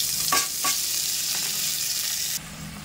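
Cumin paste hits hot oil already tempered with dried chilies, bay leaf and five-spice seeds, giving a loud, close, continuous sizzle with a couple of utensil clicks, then the frying drops to a quieter hiss near the end.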